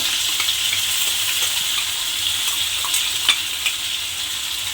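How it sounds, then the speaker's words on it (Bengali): A spice paste of ginger, green chilli, poppy seed, cashew and melon seeds sautés in a pan for potato dum, a steady close hiss of sizzling with light stirring scrapes and no talking. "মশলাটা দিয়ে একটু আমি কষিয়ে নিয়েছি।"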